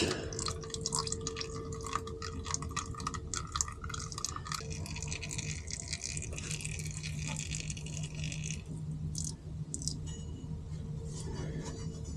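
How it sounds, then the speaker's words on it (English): Excess oil draining from a Bitter CD car being prepared for winter storage, a steady close trickle with small drips and liquid splashes running continuously throughout. "Just let some of the excess oil out."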